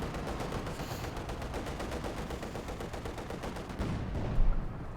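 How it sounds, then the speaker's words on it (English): Continuous rapid gunfire from a World War II strategy game battle in Company of Heroes 2, dense rattling bursts of automatic fire with a heavier thump near the end, loud and unbroken. "Another shot fired there."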